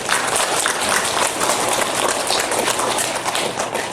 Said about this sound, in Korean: 우리 박수로 하나님께 영광을 돌리겠습니다.